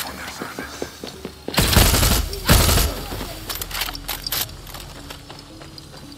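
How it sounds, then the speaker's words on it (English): Gunfire at an enemy in Far Cry 6, fired without touching the aim stick: two loud, close bursts of shots, followed by scattered fainter cracks and lingering ambient noise. "I'm gonna try and not touch the aiming stick at all and just shoot at him"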